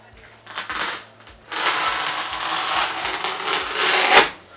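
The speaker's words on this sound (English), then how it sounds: "So it's quite easy to cut. You just dig the knife in." A knife digs into and slices through shadow foam being shaped for spanners in a Pelicase socket set, giving close, scratchy bursts of cutting noise that pause and resume, louder toward the end.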